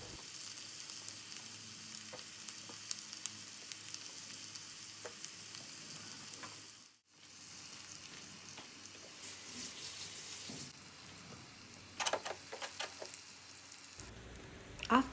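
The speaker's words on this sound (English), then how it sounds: "Add eggplant first and cook them 2 to 3 minutes." Eggplant fries in a pan, a steady close hiss and sizzle with scattered stirring clatter, broken by a brief near-silent gap midway and a few sharper clicks toward the end.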